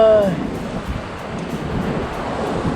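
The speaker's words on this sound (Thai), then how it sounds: "ลมแรงมากครับ" Strong wind buffets the microphone at a coastal wind turbine viewpoint in Phuket, a steady loud broadband rush lasting throughout with no speech.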